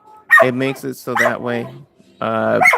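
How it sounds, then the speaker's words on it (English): A pet dog yips, barks and whimpers in the background while someone talks close to the microphone during a live drawing session indoors. "sorry about my dog in the background."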